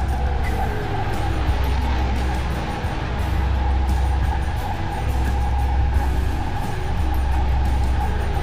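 A tram or train moves through the video game Dreamfall: The Longest Journey with a steady, continuous low rumble and rolling hum that barely changes over the whole stretch.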